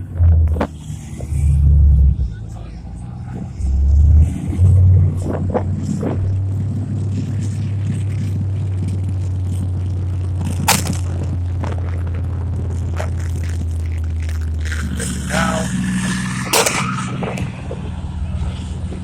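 An M60 tank's engine rumbles low and steady as it pulls back behind a hill, with heavy thumps near the start and a continuous deep drone throughout.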